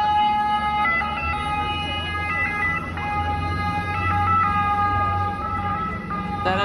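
Boat ambulance siren on the canals of Venice, Italy, wailing steadily through the whole stretch with rising and falling tones over a low engine rumble, fairly close and loud, with no talk.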